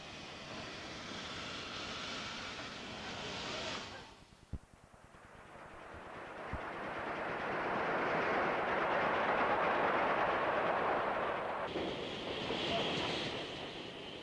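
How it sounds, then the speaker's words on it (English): An LNER steam engine hauls a single-coach commuter train along a rural branch line, a broad rumble and rush that swells to a loud peak as it passes, with a brief quieter gap and faint clanks earlier. "engine brings its single-coach train into what looks like the branch of a branch"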